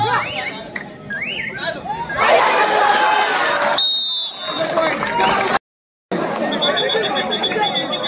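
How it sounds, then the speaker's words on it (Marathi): Spectators at a village kabaddi match for a sarpanch cup tournament create a dense, loud crowd murmur with shouts and cheers, while an announcer's amplified voice carries over the noise and a whistle cuts through. "कृपया प्रेक्षकांनी बोलू नका."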